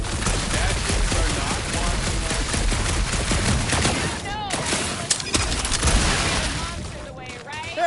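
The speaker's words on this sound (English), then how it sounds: "shooting's not aimless" Rapid bursts of gunfire from the video game Guardians of the Galaxy crackle densely and nearly continuously, loud and close, with voices talking over the shooting.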